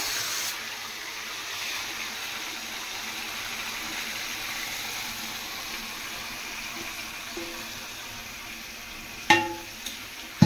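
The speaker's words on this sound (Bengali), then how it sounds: "আর এবার চিকেনটাকে দিয়ে দেবো ম্যারিনেট করা" Marinated chicken sizzling steadily in hot oil with bay leaves and pre-fried potatoes in the pan, a continuous moderate frying hiss, followed near the end by a few sharp clinks.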